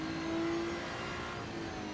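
Race car engine in the racing game Assetto Corsa EVO, a steady moderately loud whirring drone with a sustained engine tone, fairly quiet in the mix and without speech.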